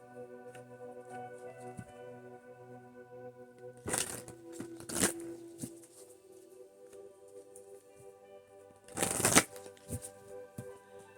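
Elemental oracle cards are shuffled in a few quick riffling bursts over a quiet bed of soft background music, the crisp card flutter close and clear.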